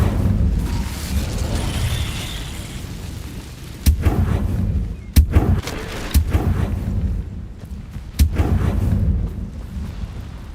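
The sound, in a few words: Incendio fire spell cast in the video game Hogwarts Legacy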